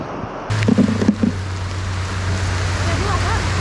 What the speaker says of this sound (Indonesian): Oke, kalau hujan begini tinggal nunggu deh.